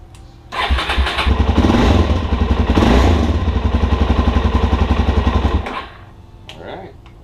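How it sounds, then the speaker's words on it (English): A Suzuki DRZ400S motorcycle engine starts and runs at a steady, throbbing idle for about five seconds before shutting off, loud and close. "I'm gonna turn the engine on, run it for a few seconds, cycle it through"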